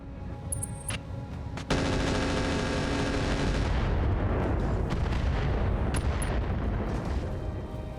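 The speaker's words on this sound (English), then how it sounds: "here come the bombs" Bombs burst in the BattleTech mech combat game as a sudden roar of explosions, then a dense, sustained rumble of blasts and fire that slowly thins out, with faint higher beeps now and then.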